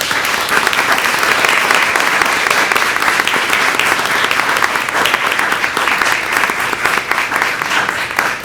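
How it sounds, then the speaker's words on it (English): Sustained audience applause at a retirement recognition ceremony, a dense, steady wash of clapping from a large crowd that stays loud and even throughout with no talking. "Let's all give Maureen a big round of applause."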